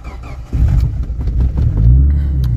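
A Nissan Skyline R32 engine cranks briefly, catches and fires up, then revs loudly up close, holding a rough, throaty roar with no talking.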